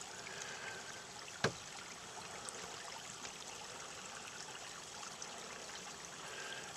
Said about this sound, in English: A little creek's trickling, you can hear it.